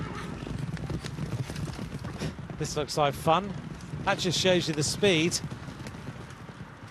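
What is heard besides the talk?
horse galloping along the road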